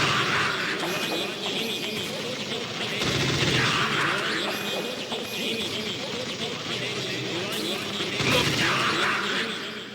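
Bursts of gunfire from shooting an enemy in Metal Gear Solid come in three clustered volleys with a continuous game soundtrack running beneath, and a person talks over parts of it.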